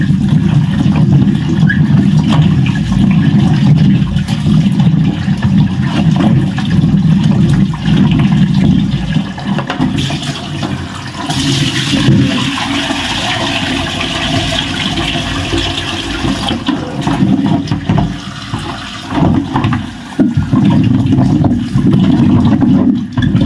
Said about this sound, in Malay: Kita basuh sampai jernih air.